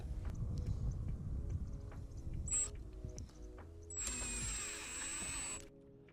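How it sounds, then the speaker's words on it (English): A power drill drives screws while installing a Davis weather station, whirring in short bursts with a longer high-pitched whine near the end, among clicks and handling noise close by. "use the provided screws that come with it as well as our trusty drill to drill it in"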